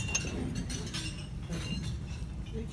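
Champagne glasses clink together in a toast during a rabbi's blessing, several light glassy chinks scattered over a couple of seconds amid a soft room murmur.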